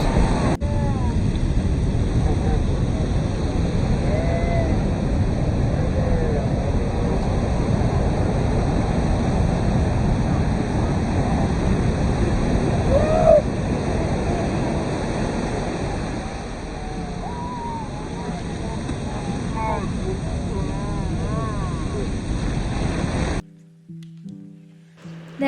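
Surf washes steadily onto Puri beach in Orissa under a constant roar of wind, the broad wash of breaking waves continuing without pause until it cuts off abruptly near the end.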